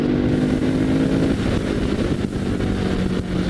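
A 2016 Ducati Hypermotard 939 motorcycle on a test ride, its engine roaring steadily with a coarse mid-pitched drone and a brief pitch shift as it changes speed, heard up close under wind noise.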